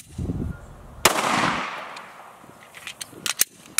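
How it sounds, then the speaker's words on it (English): A Glock 19 pistol fires a single loud 9mm full metal jacket round, a sharp crack followed by a fading echo, with faint clicks and rustles afterward. "I'm gonna use a Glock 19, and we're gonna be doing the 9mm."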